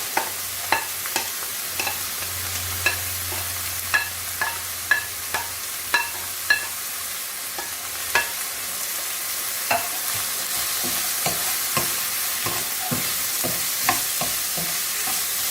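Celery and salt stirred in a pan with a utensil: sharp scraping clicks land at a fairly regular pace over a soft, constant frying hiss, heard close with no speech.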